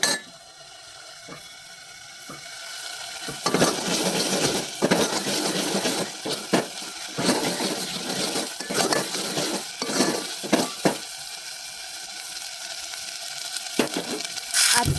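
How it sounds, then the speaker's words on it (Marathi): Besan mixture stir-fried in oil in a pan for patwadi rassa, with a soft steady sizzle and irregular scraping and clinking of a spoon against the pan, close by, no talking. "आपल्याला मिश्रणातला तेल सुटेपर्यंत व्यवस्थित परतून घ्यायचं आहे."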